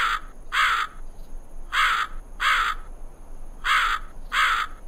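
A crow caws in three pairs of harsh, fairly loud calls, evenly spaced and alone without any voices.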